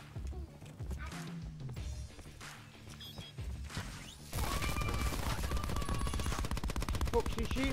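Gunfire in the Black Ops 4 Heist game mode comes as bursts of rapid automatic shots with clattering game effects, loudest in the second half and mixed with other in-game sounds.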